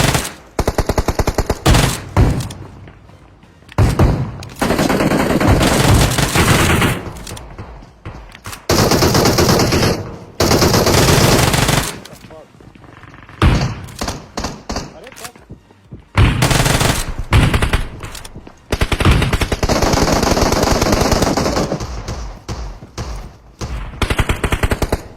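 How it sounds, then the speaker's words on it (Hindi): Uzi and other gunfire in a first-person shooter video game, loud bursts of rapid automatic fire recurring in clusters with short pauses between them. "पता है चारों तरफ से गोलियां चल रही थी"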